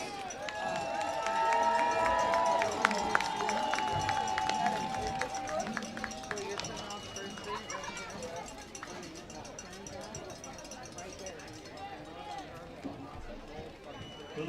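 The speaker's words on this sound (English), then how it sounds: "Keep cheering them on, folks." Crowd cheering and shouting in the stands during a nacho eating contest at a minor-league baseball game, a steady dense roar of voices with whistles, loudest early and then easing into continuous babble.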